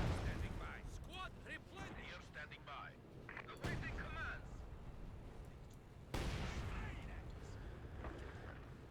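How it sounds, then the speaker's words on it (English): An artillery barrage hits in Company of Heroes 2, with two loud, deep explosions landing a few seconds apart over ongoing battlefield noise, and a voice talking between them. "oh, here's is this barrage."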